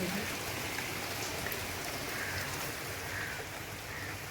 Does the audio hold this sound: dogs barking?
no